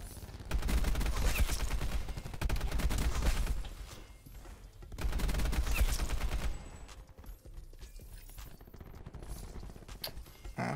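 AN94 assault rifle fire in Black Ops 4: two long, loud bursts of rapid automatic shots separated by a short pause, then quieter scattered gunfire and game noise trailing off.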